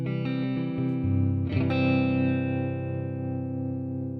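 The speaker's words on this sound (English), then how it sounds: "I turned up the reverb so it sounds like we're in a club" A sustained electric guitar chord rings out with heavy studio reverb, a second strum adding a brief scratchy attack before the tone slowly fades.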